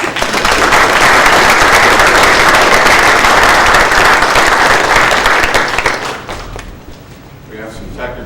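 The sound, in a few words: audience applause welcoming speaker on stage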